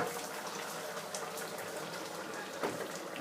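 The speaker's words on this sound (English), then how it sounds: "It's just sizzling hot there because the hob is still hot." A pot of beef bourguignon sizzles on a still-hot hob, a steady, close crackling hiss with fine popping bubbles that runs on without pause.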